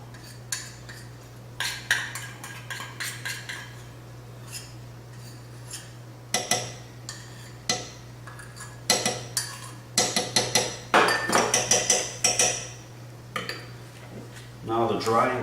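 Spoon clinking and scraping against a bowl while dry ingredients are stirred into wet ones for a sweet-heat BBQ sauce, in irregular bursts of clatter with short pauses, close and fairly loud over a steady low hum.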